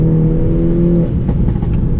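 A stage 2 tuned Mini Cooper John Cooper Works Coupe with 280 horsepower revs loudly and up close in sport mode, a steady droning engine note that eases off and then roughens, with no talking.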